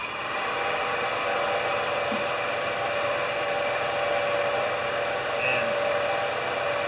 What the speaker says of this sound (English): And blowing out the intake.